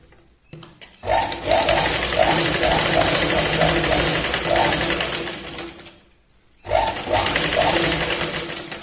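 Sewing machine running the final line of stitching on a blouse, a sustained close rattling whir that stops briefly and then starts up again.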